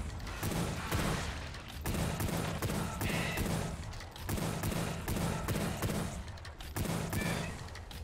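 Rapid revolver fire in the retro shooter Wrath: Aeon of Ruin, sustained volleys of loud shots in dense bursts with brief pauses between them, alongside clanking game effects and no voices.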